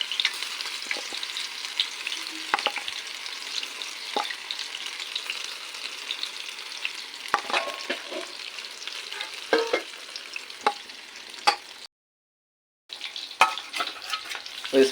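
Soya chunks frying in a pan of hot oil give a steady, close sizzle with scattered sharp crackles and pops, and a short break in the sound near the end. No one speaks.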